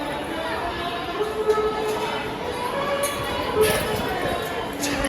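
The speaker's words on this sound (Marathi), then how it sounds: "सव्वा सहा वाजता बी एवढी गर्दी आहे" A large crowd of pilgrims at Trimbakeshwar in the early morning forms a steady, dense murmur of many voices, with occasional louder shouts and knocks rising out of the mass.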